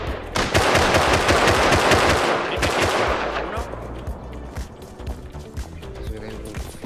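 Rapid automatic gunfire in the survival game Rust rattles out in loud, dense bursts, with sustained firing that thins into scattered shots toward the end.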